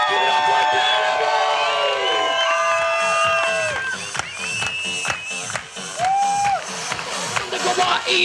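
Crowd cheering and applauding at a show in Riviera Maya, loud whoops and shouts over a dense wash of clapping, with voices rising and falling throughout.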